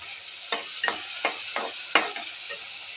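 Brinjal gravy with tomato, salt and turmeric stirred in a frying pan, a spoon scraping in about six short strokes over a steady soft sizzle, close and alone.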